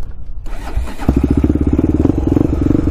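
Honda 400ex ATV engine starting up and settling into a loud, close, lumpy single-cylinder idle with a steady chugging pulse.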